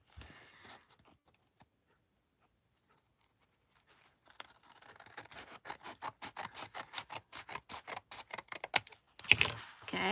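Scissors cutting paper for a junk journal pocket, a steady run of crisp rhythmic snips building after a quiet start, close and fairly loud toward the end.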